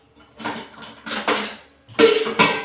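A metal kadai is set down on a kitchen stove with a few separate clanks and knocks, close and sharp, while cooking mango kulambu.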